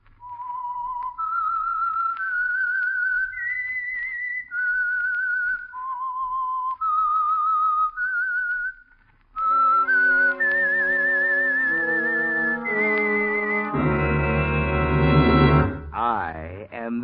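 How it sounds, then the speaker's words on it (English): The whistled theme of The Whistler radio show, a lone eerie melody of sustained whistled notes followed by a swelling orchestral chord sequence that builds to a loud climax. "That whistle is your signal for the Signal Oil Program"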